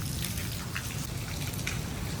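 Heavy rain pours steadily in a hot-season downpour, a dense, continuous hiss of drops spattering on surfaces close by, with no voices.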